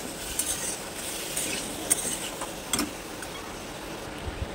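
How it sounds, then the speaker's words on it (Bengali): Medium-sized potato pieces are stirred and fried in oil, a soft steady sizzle with scattered light scrapes and clinks of the spoon against the pan. "এটাকেও ভালো করে নাড়াচাড়া করে একটু ভেজে নিতে হবে।"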